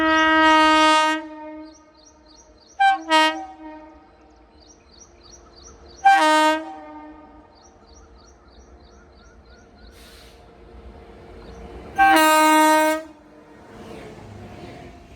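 A WAP7 electric locomotive's horn sounds in several long, loud blasts separated by pauses, with faint rail rumble underneath, as the train passes Bengaluru Airport halt station.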